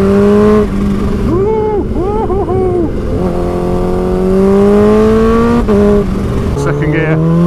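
A tuned Kawasaki H2 motorcycle of about 250 horsepower accelerating hard on a road, its engine loud and close, pitch climbing through the gears with sharp revving shifts and a rider talking over it.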